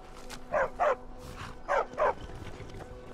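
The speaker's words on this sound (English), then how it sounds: "A war dog is good company and good protection." War dog in the city of Markarth in Skyrim, barking in two quick pairs, moderately near and clear over quiet ambient hum.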